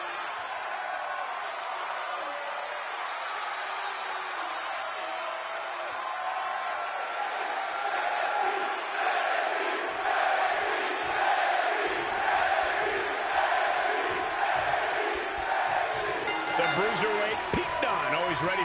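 A wrestling arena crowd roars and cheers steadily before a match, a dense continuous wall of noise that swells slightly in the second half, with commentators talking over it.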